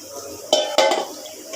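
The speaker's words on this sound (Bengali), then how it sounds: "আগে আমি মশলা, হলুদ, মরিচ সব কিছু দিয়ে মাখা একটু দিয়ে রেখেছি। এখন আবার ফাইনালি মাখাবো।" Rohu fish pieces are being mixed by hand with turmeric, chili and spices in a metal bowl, two close, loud clattering squelches followed by softer rubbing, with no speech.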